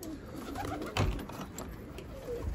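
A tumbler pigeon coos softly at close range in a quiet loft, its low murmuring calls steady against faint background hiss.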